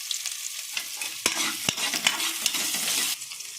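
Curry leaves tossed into hot oil with spices give a steady close sizzle broken by a few sharp clinks of a stirring spoon against the pan.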